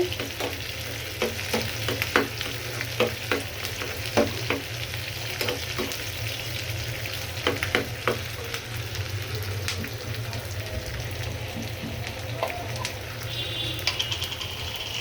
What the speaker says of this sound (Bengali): এখন বেরেস্তাটা আমি ভেজে নিতে আছি, এটা আমি খিচুড়ির সাথে দিব বেরেস্তা করে।